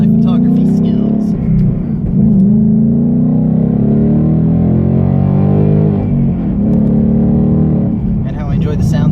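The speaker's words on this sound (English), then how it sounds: "I enjoy the sounds of this car" A car engine rumbles loudly nearby, its low drone holding steady with slight rises in pitch as it revs, while a person talks over it throughout.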